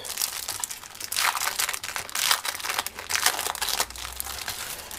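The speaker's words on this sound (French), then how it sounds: "Là, j'ai acheté une planche de tampons. Je vais les déballer." Plastic packaging crinkles and crackles as a large sheet of landscape rubber stamps is unwrapped, with bursts of close crumpling and tearing over several seconds.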